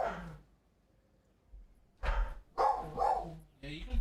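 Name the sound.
dog barking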